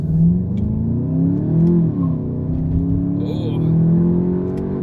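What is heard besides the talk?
2019 Jetta GLI 35th Anniversary engine revving while driving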